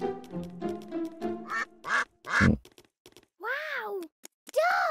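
Cartoon ducks quack in the My Friend Peppa Pig game on Xbox One, several bright, nasal, bending calls arriving in short bursts after a stretch of excited speech, with pauses of silence between them.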